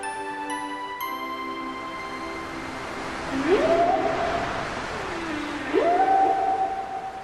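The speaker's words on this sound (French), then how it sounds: "C'est un chant de baleine?" Long, drawn-out whale calls, two rising moans sliding upward over a soft background hum, with some high tonal notes early on.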